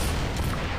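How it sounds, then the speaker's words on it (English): Rocket fire against zombies in the shooter game Unkilled, a short dense burst of explosive booms and rumbling blasts, loud and continuous, with no talking. "Using rockets"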